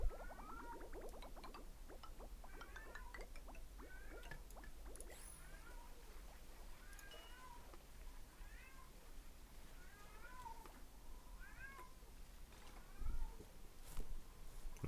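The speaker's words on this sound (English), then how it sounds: "My cat is like screaming in the background" A pet cat meows over and over in the background, the cries faint and distant and set against a quiet room hum.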